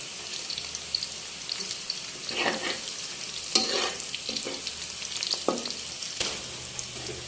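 Bay leaf and cinnamon sizzle in hot oil with browned onions, a steady crackling fry broken by a few louder stirring scrapes and clatters.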